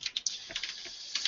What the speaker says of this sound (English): So I'm just going to go ahead and type this in right now.